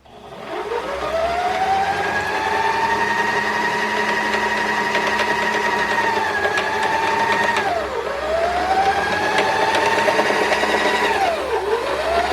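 A sewing machine winds thread onto a bobbin with a loud, steady whirring motor that rises smoothly in pitch as it speeds up, drops briefly, then spins back up, with no voices.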